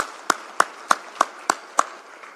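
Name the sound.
audience applause at a conference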